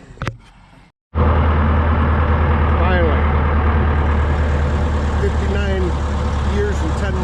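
Antique tractor engine at a baling operation, a steady low rumbling idle that starts abruptly after a brief silence and runs on continuously, with faint voices in the background.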